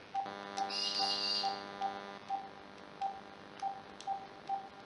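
A phone call being placed: a short burst of keypad tones, then a regular ringback pulse repeating about every half second, faint and alone.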